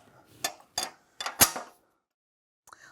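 Metal wrench working a bolt loose on an Allegro 2 Pilates reformer, four sharp close ratcheting clicks and scrapes in quick succession, then quiet and a faint clink.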